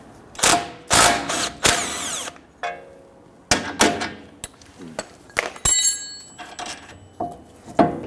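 A power tool with an extension and a 15 mm deep socket zips off the sway bar end link nut behind the rotor of a 2010-2019 Ford Taurus, in loud repeated bursts with metallic clunks and rattles between them.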